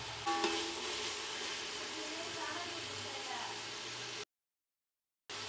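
Tomatoes seasoned with salt and turmeric fry in a pan with a steady, close sizzle for about four seconds, then a brief dropout of silence before the sizzle resumes.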